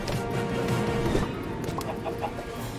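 Chickens cluck steadily in an animated Minecraft minecart race, the clucks close and fairly loud amid busy game sound effects and background noise.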